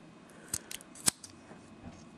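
Gerber FliK Fish multitool scissors snipping through 550 paracord, a few quick close clicks building to one sharp loud cut, with no talk.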